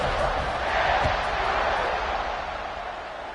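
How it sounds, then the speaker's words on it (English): Stadium crowd at a Hogs vs Tigers football game buzzing after a score, a dense, steady roar of many voices filling the space, loud and constant before easing slightly toward the end. "this crowd is buzzing after that last score"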